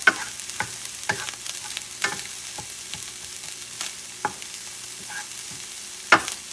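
Cauliflower rice fries in oil in a pan, sizzling softly and constantly while a utensil stirs and scrapes it in sharp, irregular strokes, close up and without any talking.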